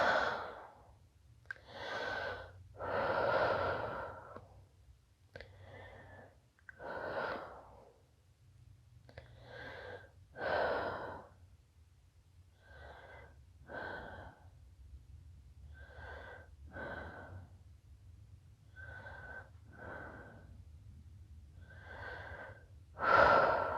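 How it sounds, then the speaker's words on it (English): Heavy, loud breathing close to the microphone after a yoga flow, with repeated breathy exhales and sighs at an uneven rhythm over about twenty seconds, with no talking. "I'm sure this video is just me breathing loudly to the microphone."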